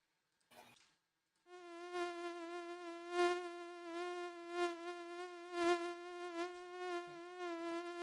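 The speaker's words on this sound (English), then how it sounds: "That buzzing gets really intense. You hear it all around you." A swarm of insects in a video game makes a steady, droning buzz that sets in after a brief click and continues without a break, rising and falling slightly as it surrounds the player.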